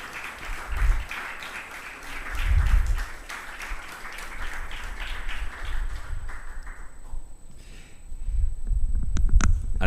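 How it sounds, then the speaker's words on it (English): Audience applause at a university prize ceremony for investigative journalism, with a broad wash of clapping that swells in several waves and carries on steadily across the stretch, heard in a fairly reverberant hall. "big round of applause."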